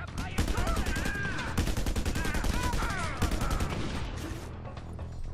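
Dense automatic gunfire in the action video game Just Cause 2, rapid continuous bursts running nearly the whole time, loud and close, with a brief lull near the start and thinning toward the end, under game music or effects.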